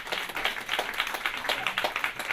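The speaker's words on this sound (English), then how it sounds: "Clap it up." A small comedy club audience claps together in a steady run of quick, bright hand claps, moderately loud and unbroken, with no voices over it.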